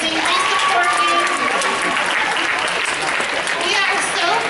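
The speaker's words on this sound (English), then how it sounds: "Give them your teachers and staff a round of applause." A school ceremony audience claps loudly and continuously in a dense wash of applause, with a voice speaking faintly over it near the start.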